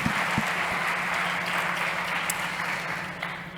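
An audience at a health and wellbeing startup competition claps after a pitch. The applause is a soft, even wash heard from a distance, with a few sharper claps near the start.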